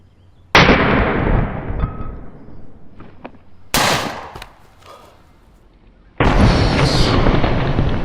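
An air pressure gun fires point blank at a gelatin-covered zombie skull, giving loud, close blasts that burst out suddenly, hiss and decay over a few seconds; three separate bursts occur, the last a sustained roar.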